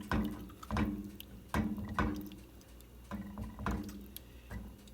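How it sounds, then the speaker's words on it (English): Chicken and vegetable pot pie filling stirred in a pot, a series of wet, thick squelches and spoon knocks arriving in slow, uneven strokes, close and moderately loud, with no talking. "Give that a little stir."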